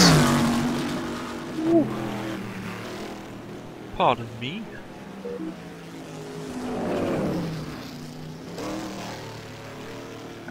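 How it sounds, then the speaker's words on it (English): A Plymouth Barracuda race car engine revs and rumbles at an oval race, rising and falling passes heard at a moderate distance under a commentator's voice. "Here we have one of the Plymouth Barracudas, another very beautiful sounding car"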